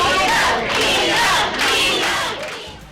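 Angry teachers and protesters shouting together at a heated school board meeting in Pasco, a loud, dense crowd roar of overlapping voices that swells and dips without pause.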